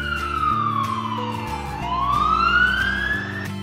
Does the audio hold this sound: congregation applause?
no